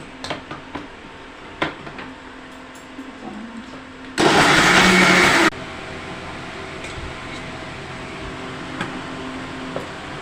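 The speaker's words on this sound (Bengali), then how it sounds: "এই যে চিকেনটাকে মিক্সিতে পেস্ট করব।" A kitchen mixer grinder pastes boiled chicken in a single loud, steady burst of roughly a second, rising sharply out of quiet room background and then cutting off abruptly.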